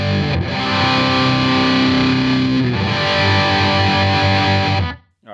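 An electric guitar plays through a Headrush pedalboard with a graphic EQ level boost, giving loud, distorted sustained chords with a thick effects-processed tone that ring out and then cut off abruptly near the end.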